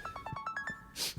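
A mobile phone rings with an incoming call, a quick run of repeating electronic tones followed by a brief bright burst, faint and alone.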